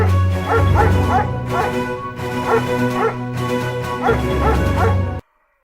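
A dog barking and yipping in quick, loud, repeated bursts over a musical segment jingle, running continuously before cutting off abruptly into silence.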